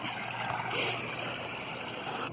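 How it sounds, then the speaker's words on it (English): An RV black waste tank drains through its hose after the larger valve handle is pulled, a steady gushing, trickling rush of liquid heard close and continuous with no talk. "I'm going to dump the poopy water by pulling the handle on the larger of the 2 valves. And all that poopy water is going to go out"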